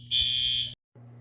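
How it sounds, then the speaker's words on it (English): A building fire alarm blares with a loud, piercing buzz that stops abruptly and then starts again, close and insistent against a low hum. "And an alarm is going off in my building."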